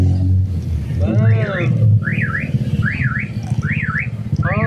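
A car alarm goes off nearby, its rising and falling electronic siren repeating in steady cycles over street noise, with people talking underneath.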